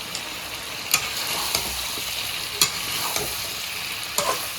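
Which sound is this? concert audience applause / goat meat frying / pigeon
goat meat frying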